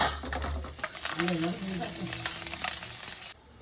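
Cumin seeds, garlic and ginger sizzling in hot oil with a steady crackling fry and occasional stirring scrapes, close and fairly loud, the sizzle cutting off abruptly near the end.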